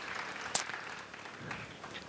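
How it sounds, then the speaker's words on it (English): An audience at a fireside chat event gives a round of applause, steady moderate clapping that continues throughout the short stretch. "Please join me in giving John Bruce a big round of applause"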